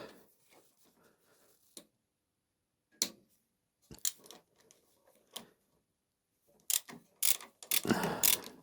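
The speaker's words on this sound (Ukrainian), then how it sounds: "Так, беру ключ. Поки цей ключ на 10. Відпускаю оці болти." A size 10 wrench works the valve cover bolts on a DTZ walk-behind tractor, giving several sharp metallic clicks and clanks spaced apart and close by, then a louder burst of rattling and scraping toward the end, with no talk.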